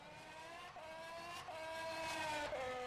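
A Formula 1 car in a sim racing game pulls away from the pits on cold hard-compound tyres at Melbourne, its engine note climbing steadily through gear changes with whining harmonics, sustained and loud with no talk.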